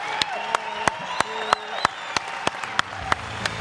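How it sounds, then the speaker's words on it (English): Applause for a panel of doctors comes through as crisp, evenly spaced claps in a steady rhythm, about three per second, with a faint voice-like tone running underneath. "can we please give them a round of applause"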